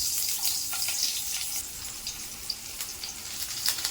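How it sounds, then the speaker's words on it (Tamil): Mustard seeds and urad dal sizzling in hot oil in a kadai: a dense, hissing crackle holds steady throughout, with tiny pops scattered across it, close and alone with no talk. "ஒரு கடாயில் எண்ணெய் விட்டு எண்ணெய் காஞ்சதுமே கடுகு உளுந்தம் பருப்பு போட்டுடலாம்."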